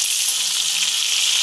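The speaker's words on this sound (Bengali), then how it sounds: "মাছগুলো এক পিঠ ভাজা হয়ে গেছে, আর এক পিঠ আমি ভেজে নেবো" Fish frying in a pan of hot oil, a continuous crackling sizzle, close and fairly loud, with no voices.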